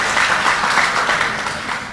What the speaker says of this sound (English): let's give a big applause for the University of Indonesia